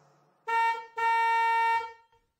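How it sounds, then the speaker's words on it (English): Two loud car horn blasts, a short honk followed by a longer sustained one, bright and close with nothing else around them. "or the honking of cars."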